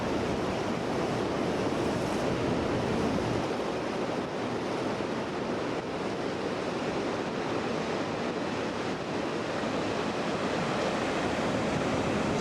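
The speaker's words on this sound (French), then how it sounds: "Il y a un vent infernal" Strong wind gusts beside the Garonne river in Toulouse, a loud, continuous roaring rush buffeting the microphone for the whole stretch, no voices.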